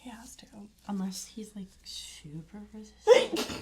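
Near the end of a stretch of soft whispered talk during an ASMR facial session, a single sharp sneeze bursts out, close and loud.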